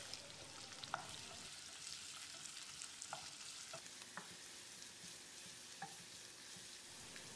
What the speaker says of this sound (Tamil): 2 கொத்து கறிவேப்பிலையை சேர்த்து வெங்காயத்தை செவந்து வர்ற அளவுக்கு வதக்கிடலாம்.